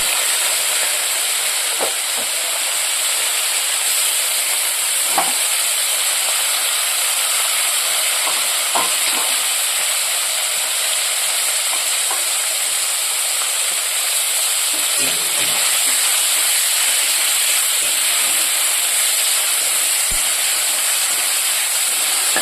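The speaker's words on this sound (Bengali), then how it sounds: "সেই তেলে শুকনো মাছটাকে ভেজে নেব" Dried fish fries in hot oil in a wok, giving a loud, continuous sizzle and bubbling hiss throughout, with occasional soft clinks and scrapes of a utensil and no talking.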